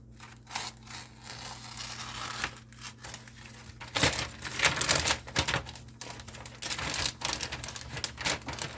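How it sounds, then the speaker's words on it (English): Scissors snip and crinkle through a plastic bag in a series of uneven cuts and rustles, close by and fairly quiet. "I'm using scissors to cut my bag"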